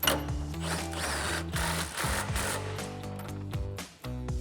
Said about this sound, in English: Grab our 21mm nut, thread that on, grab our socket and impact and tighten that down.